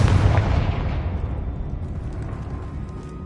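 A Confringo fire spell from Hogwarts Legacy erupts in a loud, close explosive boom, a burst of roar and crackle that slowly decays into a rumbling tail, with no voices.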